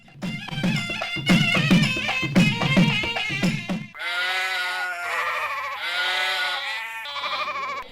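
Goats at a livestock market bleating, several loud wavering calls in quick succession, near and clear with no talk over them.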